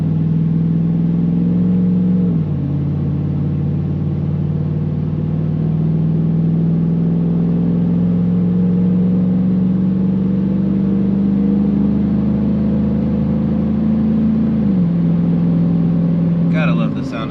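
Chevy truck with a 6.6 engine cruising at night, a steady low exhaust drone heard from inside the cab, dipping slightly as the engine note shifts before holding even again.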